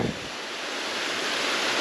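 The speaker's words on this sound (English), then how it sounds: "There's a lot of water coming out underneath the railroad," Water rushing out from underneath a railroad embankment, draining off a valley on a farm property, gives a steady, loud broadband wash like surf that holds evenly throughout, with wind buffeting the microphone.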